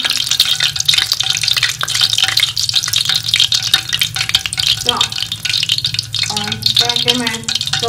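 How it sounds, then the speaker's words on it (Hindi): Chicken pakora frying in hot oil, with a steady loud sizzle, stirring and rattling of a utensil in the pan, and someone talking over it. "हमारा चिकन पकौड़ा फ्राई हो गया है, इस तरह गोल्डन कलर आया है।"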